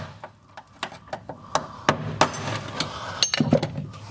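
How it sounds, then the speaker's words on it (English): Hammer smacking a screwdriver set against the notch of a Ford Transit fuel tank lock ring, a series of sharp metallic knocks at irregular intervals, loud and close, with no talking. "smack it a couple good times with the hammer"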